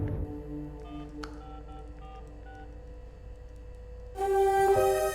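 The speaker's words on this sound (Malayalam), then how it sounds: "സമീറ, ഞാൻ ഒരാൾക്ക് ഈ ഫോൺ കണക്ട് ചെയ്യാൻ പോവാണ്." A series of short telephone keypad tones beeps one after another, followed by a louder continuous ringing tone at the end.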